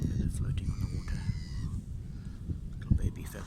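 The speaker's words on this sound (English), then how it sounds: "You can hear the bird life." Crow-like caws from seabirds carry over a shoreline, a few harsh calls scattered across a murmuring outdoor background with faint voices.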